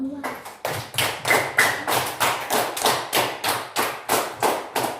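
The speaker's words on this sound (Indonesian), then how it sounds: "Tepuk tangan semua." A classroom of students claps their hands together in unison, a steady rhythmic beat of about three claps per second, loud and close, with no talking over it.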